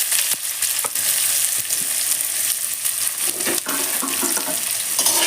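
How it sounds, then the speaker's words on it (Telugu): Ivy gourd sizzles and crackles in hot oil in a pan on a roasted lentil mix, a loud continuous fry with scattered pops and stirring scrapes. "దీనిలోకి డైరెక్ట్గా మనం వేయించుకున్న పెన్నం పైన దొండకాయలను వేసేస్తున్నాం."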